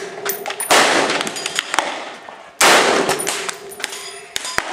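Two loud, sharp .308 rifle shots about two seconds apart at an outdoor range, each a booming blast with a ringing metallic clang from a struck steel target and a decaying echo.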